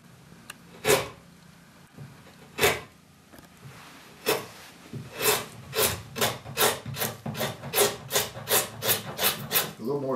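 Sharp hand tool carving the wooden bowl of a chair seat, a few scattered scrapes at first, then a steady run of rhythmic rasping strokes, close and fairly loud with no talk.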